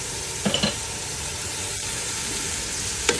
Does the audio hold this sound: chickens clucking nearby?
no